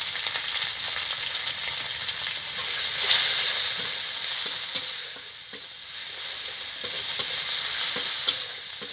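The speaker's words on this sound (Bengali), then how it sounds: "বেটে রাখা মশলাটা দিয়ে দেবো, আদা লঙ্কা জিরে, একটু হলুদ" Ginger, chili, cumin and turmeric spice paste fries in a pan while making lau chingri, a steady close sizzle with occasional stirring scrapes and small pops, no voices.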